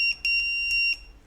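An electronic alarm gives a few shrill, high-pitched beeps in an uneven pattern, loud and close, with a steady hum beneath.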